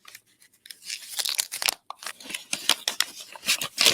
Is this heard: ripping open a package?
yes